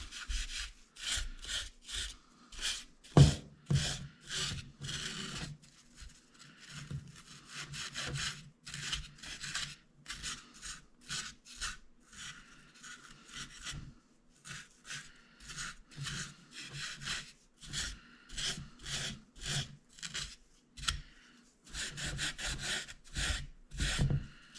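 Sandpaper scuffing wood filler off a 3D-printed part by hand, a close run of quick rhythmic rasping strokes in uneven bursts with short pauses, fairly quiet and without talk.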